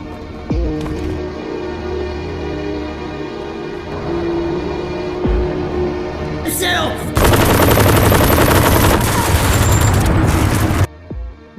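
Bursts of gunfire in a Peaky Blinders shootout, a few sparse shots and low thuds at first, then a loud, dense volley of rapid shots lasting several seconds before cutting off abruptly.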